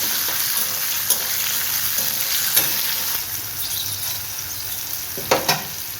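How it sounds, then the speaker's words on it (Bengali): Shelled green peas frying in oil in a pan, a bright steady sizzle with a few sharp scraping strokes of stirring, loudest near the end, no voices. "মটরশুঁটিগুলো সব দিয়ে দেব তেলের মধ্যে একটু নড়াচড়া করে নেবো এবার"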